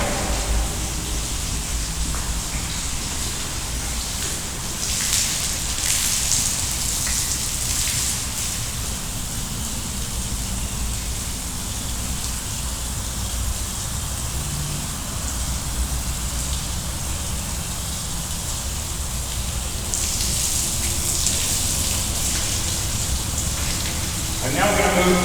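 A water spray rinses a car at a car wash as a steady, loud hiss of rushing water that runs unbroken throughout, swelling slightly in places, close up with no talk.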